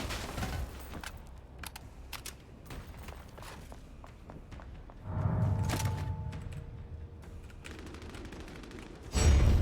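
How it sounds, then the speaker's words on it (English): Gunfire in Vampire: The Masquerade - Bloodhunt, heard in an alleyway as a player shoots an opponent trying to revive. Several sharp shots and thuds sit over a busy game backdrop, with a louder burst near the end. "I'm gonna shoot him."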